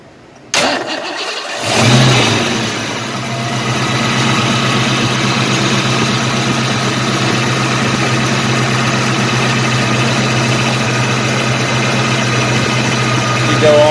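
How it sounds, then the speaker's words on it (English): A 1989 Ford Mustang Fox Body engine cranks briefly, catches and settles into a steady, loud idle that runs on evenly for the rest of the clip, heard close with no talk over it. "Alright Gabe, go ahead and start it, and then you can start turning the wheel left to right slowly while it's running."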